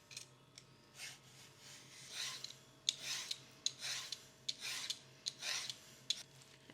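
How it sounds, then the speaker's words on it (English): Soft, rhythmic rasping strokes of a potato peeler shaving thin ribbons from a zucchini, about a stroke per half second, faint and close. "using your potato peeler just take thin slices all the way around the zucchini"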